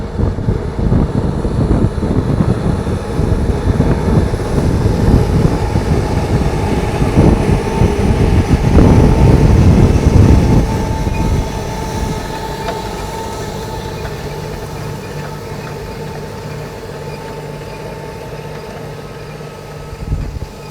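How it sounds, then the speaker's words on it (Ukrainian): A tractor pulling a seeder sows corn and sunflower in a field, a loud steady engine rumble with rattling and wind buffeting the microphone, easing to a lower, quieter drone partway through. "Ось так ми пройшли і сівалка чітко попадає в колії, точніше в рядки в ті, що ми нарізали фокусами."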